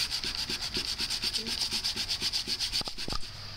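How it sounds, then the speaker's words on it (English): Fine-grade sandpaper rubbing back and forth on a PVC flute body, a steady rhythmic rasping of even strokes, close and continuous, with a few soft knocks near the end. "I'm using a fine grade sandpaper, so this takes a little longer than if you used a coarse grade."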